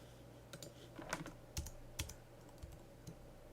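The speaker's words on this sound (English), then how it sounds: "You can press Command C and then click back" Computer keyboard keys on a Mac pressed as the Command C shortcut: a handful of sharp, quiet clicks spaced irregularly over a few seconds, close by, with no talking.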